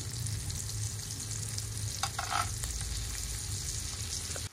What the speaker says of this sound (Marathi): मी 1-2 मिनिटंच झाली ती मांदेली आपल्याला तेलामध्ये घालून.